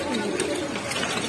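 Pigeons coo softly in a pigeon shop, a low murmuring throb that runs steadily under faint background chatter and voices.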